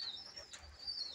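Pigeons in a loft give soft, faint coos with a bit of chirping over a steady hiss of room noise, with no voices heard.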